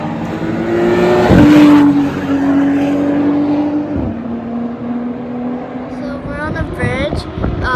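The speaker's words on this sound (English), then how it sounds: "We're over the racetrack where you can see all the race cars." Race cars roar around a racetrack, a loud engine note rising and falling as cars pass, heard from above with another car sweeping by near the end.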